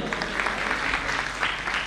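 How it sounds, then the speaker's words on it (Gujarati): An audience at a school music programme breaks into brisk, steady applause, a dense wash of clapping that stays even and fairly loud throughout. "તાળીઓથી વધાવીએ"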